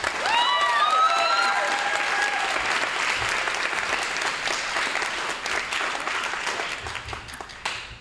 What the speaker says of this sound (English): So let's give a round of applause for Roman Metamoris